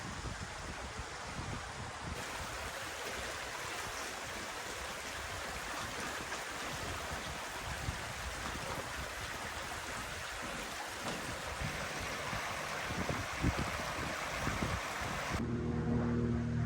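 A creek flows beside a trail, a steady broadband rush of running water heard close and continuous throughout, with no talking.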